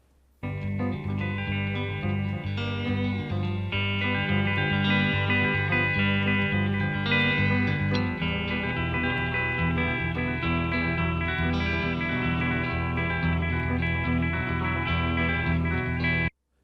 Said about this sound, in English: we're getting a second guitar here, which is more electric and has a little bit of reverb on it